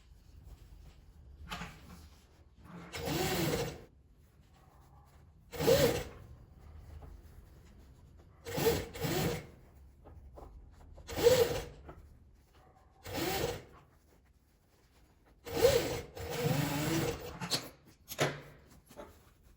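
A sewing machine stitches around the edge of a small fabric card purse in a series of short whirring bursts separated by quiet pauses as the fabric is turned, close and moderately loud.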